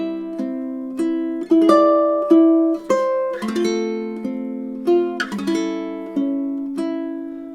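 A ukulele slowly picks through a few measures of the Mexican folk song Cielito Lindo, clear plucked single notes and brief strummed chords ringing close and alone with no talk.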